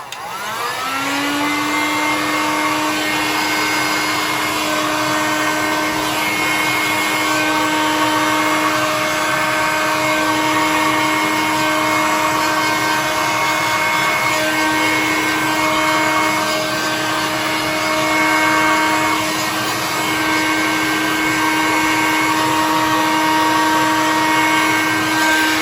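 Steady, loud whirring blast of a heat gun blown over resin, a continuous fan-and-motor drone with a strong steady hum that runs unbroken with no talking.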